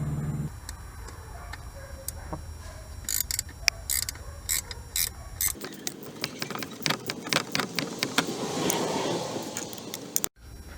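A ratchet clicks in quick, uneven bursts while tightening nuts onto the radiator fan studs of an R50 Pathfinder QX4, close and crisp, with the pace picking up partway through and a few metallic taps between strokes.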